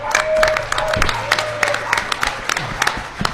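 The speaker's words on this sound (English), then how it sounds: "I'd like to give you all a round of applause" An audience at a custom car masters Q&A in the small town of Walnut Springs applauds, with moderate clapping, a few sharp claps and some talk and crowd murmur mixed in.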